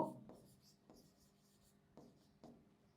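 A pen writes by hand on paper, making soft scratchy strokes in a few short bursts with pauses, close and quiet.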